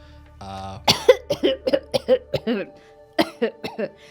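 A person coughs in a rapid, harsh series of hacking bursts, close and loud, preceded by a short buzzy tone.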